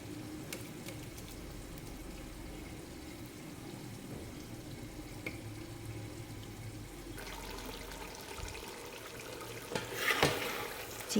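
Water from parboiled rice for chicken dum biryani pours off through a strainer in a steady continuous rush, with a brief splashing burst near the end.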